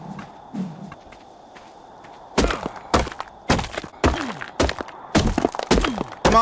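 Hatchet striking to harvest chitin in the video game ARK: Scorched Earth, a run of loud close thunking chops in an uneven rhythm after a quieter stretch of low rumble, no voices.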